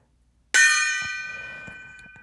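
A small gong about 3.5 inches across is struck once, giving a bright, close metallic clang that rings on with a slowly fading shimmer. The tone sounds thin and pot-lid-like. Faint soft knocks can be heard beneath the decay.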